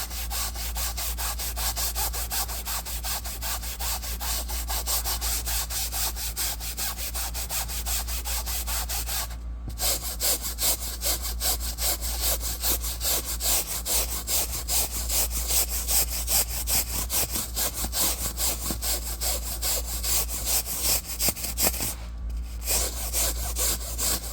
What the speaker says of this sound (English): And then I take my brush here.